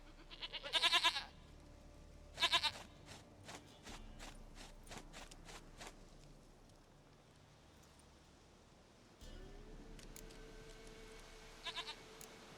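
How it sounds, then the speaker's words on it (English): Goat bleating in The Witcher 3, two loud quavering bleats early on, followed by hoof clip-clops and a low ambient game drone, with no talking. "Goat of mine, dearest, sweetest goat."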